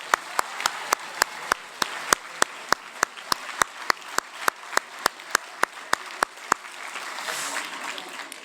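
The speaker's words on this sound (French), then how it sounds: "On peut les applaudir pour les remercier." Audience at a 2024 French prize-giving ceremony clapping in a steady, evenly spaced unison rhythm, about twenty sharp claps that stop abruptly partway through, leaving a soft room murmur.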